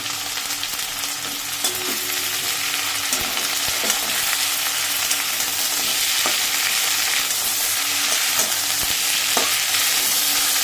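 Ginger paste frying in oil with whole spices as a soup is started, a dense continuous sizzle with occasional soft stirring knocks.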